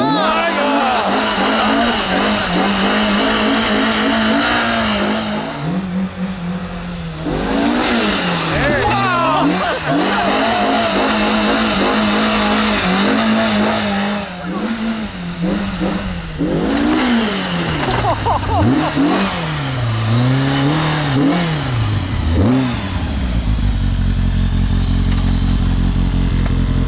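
A vehicle on giant snow tires revs loudly and accelerates toward a snow jump, the engine pitch climbing and dipping through repeated throttle surges, with a heavy landing thud near the end and excited voices shouting over it.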